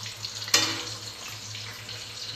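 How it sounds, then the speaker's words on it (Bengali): Potatoes frying in oil while a chicken dish is prepared, a quiet, steady sizzle with one brief clatter early on. "আলু ভাজা হচ্ছে"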